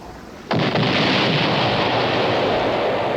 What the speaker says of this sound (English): It's the riverboat, firing its cannons to try to raise us up.